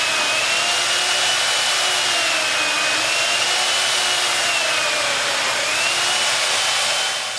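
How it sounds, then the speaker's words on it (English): A chainsaw modified for ice carving cuts into a block of ice with a continuous, loud, high buzzing whine whose pitch wavers slightly as it works, close and alone for several seconds. "So with the chainsaw,"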